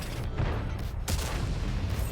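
A tank cannon fires in a tank video game: one loud, sharp boom near the middle, set against a constant low engine rumble.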